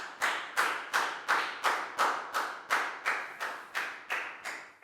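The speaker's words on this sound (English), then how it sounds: "big round of applause for Dan, please, guys." Year 4 math class applauding a student, heard as about a dozen distinct, evenly spaced sharp claps in a steady rhythm, fairly close and moderately loud.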